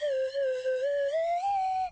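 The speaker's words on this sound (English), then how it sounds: "a much better slide whistle" A slide whistle played in one continuous tone that wavers slightly and slides gradually upward in pitch, clear and alone for about two seconds.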